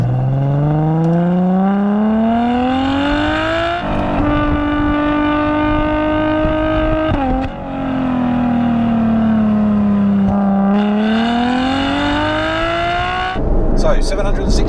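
Ferrari F12 TDF V12 driven flat out, its loud engine note climbing steeply through the gears with brief dips at each upshift, sustained and close throughout, with a sharp burst near the end.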